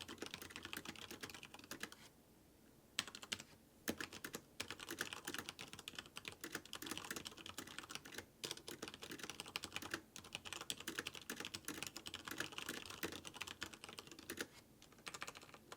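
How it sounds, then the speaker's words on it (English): Typing on a G.Skill KM780 RGB keyboard with Cherry MX Brown switches produces a quiet, continuous stream of fast, soft keystroke clicks with a few brief pauses, close up and with no other sound. "The Cherry MX Browns and the KM780 RGB were fantastic."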